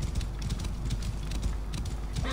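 Galloping horse hooves in Assassin's Creed Origins, a steady rapid clip-clop close up over a dense wash of game ambience, with no talking.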